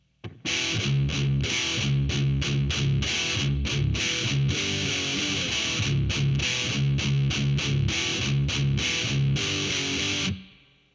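Heavy metal electric guitar through heavy distortion chugs rapid muted chords in a driving rhythmic pattern, loud and steady for about ten seconds before cutting off.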